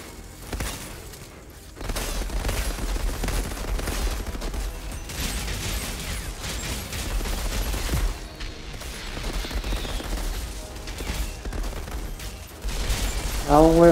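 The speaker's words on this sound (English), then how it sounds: "It's just incredible that that's an actual shotgun." Shotgun fire in Outriders comes as dense, loud bursts of gunfire and impacts amid game combat noise, mixed with voices talking.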